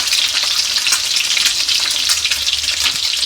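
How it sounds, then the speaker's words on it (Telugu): Eggs fry in a pan for an egg pepper fry, giving a loud, steady, close sizzle that crackles without pause and with no talking over it. "అంటే ఎగ్స్ ఫ్రై అవుతుంటాయి మనకి."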